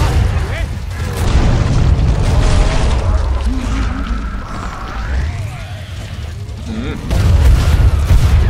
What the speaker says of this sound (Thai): จะมีระเบิดสายฟ้าน้ำแข็ง